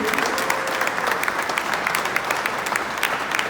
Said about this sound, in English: So, can we keep on clapping?